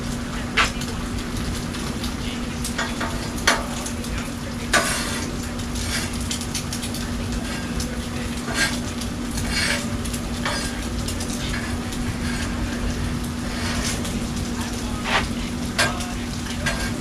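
Breakfast food sizzles steadily on a Blackstone flat-top griddle, a continuous close frying hiss broken by occasional sharp scrapes and clicks of a spatula, with no talking.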